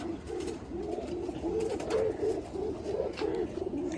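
Pigeons coo in a soft, repeated rolling rhythm, several low throaty calls in a row, fairly close but quiet, with a faint background hiss and no speech.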